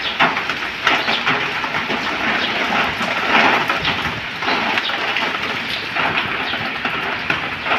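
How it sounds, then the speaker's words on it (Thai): Heavy rain pours down during a windstorm in a steady, dense roar with no pauses, loud and close, like a downpour hammering nearby surfaces. "ฝนตกหนักมากมากเลยนะครับ"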